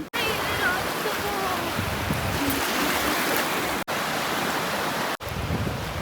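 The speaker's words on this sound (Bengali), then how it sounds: "সমুদ্র সৈকতে চলে এসেছি আর সমুদ্রটা ঢেউ নেক্সট লেভেল শুধু ঢেউটা দেখো একবার" Sea waves wash onto a beach at Tajpur, heard as a loud, continuous roar of surf that fills the whole stretch, broken only by two brief dropouts.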